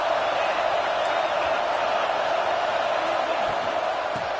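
A college football stadium crowd roars steadily as the home fans try to pin the offense deep in its own end, a dense sustained wash of distant cheering with no breaks.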